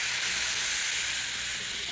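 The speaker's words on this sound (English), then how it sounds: "Turn up the steam, will you?" Steam hisses into a steam cabinet in a steady, even rush. It is fairly faint and continuous, with no talk over it.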